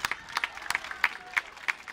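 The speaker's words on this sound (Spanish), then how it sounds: "Un aplauso" Sparse, scattered claps from a small audience, light and uneven, fairly quiet, with no talking over them.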